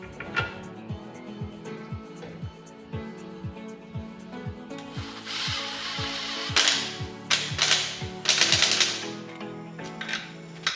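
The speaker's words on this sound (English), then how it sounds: "This screw there is very long, so you have to use also long wrench to do it, to put this nut." Ratchet wrench clicking in steady rapid strokes while tightening a nut on a Volvo XC40 under repair, followed by louder metallic clanks and scraping of tools on car parts.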